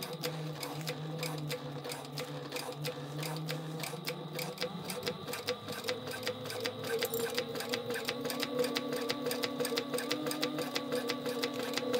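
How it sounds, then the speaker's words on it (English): A sewing machine stay stitching doubled layers of TPU clear vinyl runs steadily throughout, a fast even ticking needle rhythm over a low motor hum, close and moderately quiet. "I'm just gonna stay stitch"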